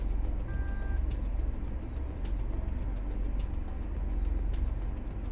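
A car engine idles and pulls forward at low speed, a steady low rumble with faint broadband road noise and scattered clicks throughout, with no talk.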